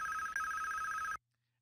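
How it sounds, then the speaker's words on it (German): A telephone rings in the video game Police Quest 3: a steady electronic trill holding for just over a second, then cutting off abruptly into silence. "Oh, Telefon."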